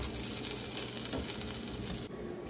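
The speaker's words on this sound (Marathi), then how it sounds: "तव्यावर भाजून घेऊया" A vegetable roll filled with cheese toasting on a hot tawa gives off a soft, steady sizzle, faint and continuous across a few seconds with no voices.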